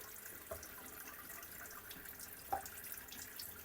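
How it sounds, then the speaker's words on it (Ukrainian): Hot water pours steadily over spinach at low volume, with a couple of soft knocks against a container. "Так, вода у мене горяча, і я буду ошпарювати."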